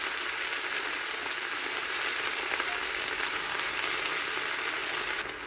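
Callaloo leaves hiss and sizzle steadily in hot vegetable oil as they are stirred in a pan, a close, dense crackle that holds constant throughout with no talking.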